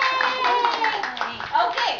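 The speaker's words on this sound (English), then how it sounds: "Let's clap for ourselves." Children clap for themselves after singing a song in class, a brief burst of steady applause mixed with cheerful voices.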